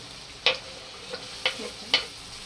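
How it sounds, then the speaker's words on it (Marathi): Tomatoes frying in oil in a pan for Marathi-style spicy chicken keema, a soft sizzle broken by three sharp stirring scrapes and clicks of a spoon against the pan. "टोमॅटो पण थोडा विरवळून द्यायचा तेलामध्ये असं टाकूया चांगली भाजून घ्यायची आहे"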